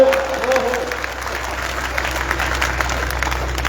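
An audience at a Hindi poetry gathering, a kavi sammelan in Neemkathana, breaks into applause, a dense continuous patter of clapping that follows a brief tonal sound at the start and holds steady to the end.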